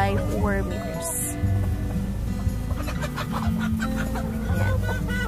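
A rooster in a 9 by 4 meter breeding pen clucks and calls in short bursts close by, mixed with other fowl sounds and a voice talking over it.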